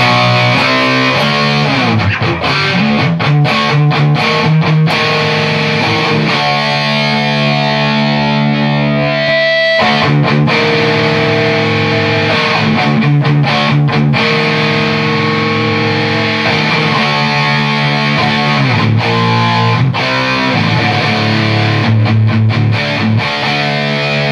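Heavily distorted electric guitar through a modified Jet City 20H high-gain amp with gain fully cranked, loud and continuous, playing chords and riffs with a thick saturated tone and a brief break midway.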